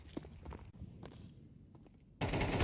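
Rapid gunshots from the video game Counter-Strike 2 during a women's esports match, in short bursts mixed with footstep-like thuds, then a sudden loud burst of fire at the end.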